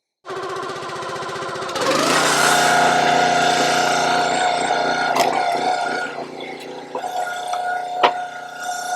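Engine-driven log splitter running outdoors as firewood is split in half, a loud steady engine drone with clanks and sharp cracking knocks of the wood giving way.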